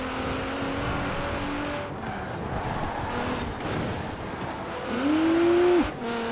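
A Nissan Skyline accelerates during night racing in Forza Horizon 4, a steady engine drone with a rising, tonal rev climb near the end that cuts off sharply, with no voices.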